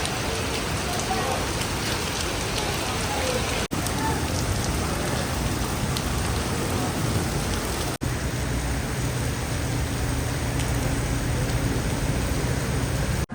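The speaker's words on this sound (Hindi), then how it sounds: "बारिश क्या शुरू हुई है" Heavy rain pouring down outside a hotel, a dense, loud, unbroken hiss of falling water with brief cuts, continuing throughout without speech.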